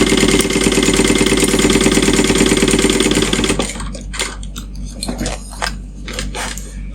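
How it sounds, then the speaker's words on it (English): A sewing machine stitches a fabric pouch at a steady, loud rapid whir for about three and a half seconds, then stops, leaving scattered clicks and handling knocks of fabric and parts close by. "I'm sewing this bit with my biggest seam allowance"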